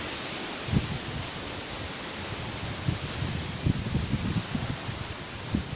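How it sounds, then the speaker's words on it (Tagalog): Strong wind from Typhoon Rolly sweeping through plants and trees, a continuous loud hiss of rushing air with scattered rustling bursts and thumps. "So, grabe yung hangin."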